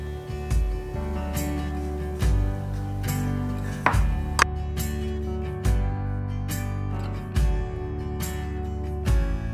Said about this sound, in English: we're using 2 pounds of apricots for this jam, and I'm just dicing that up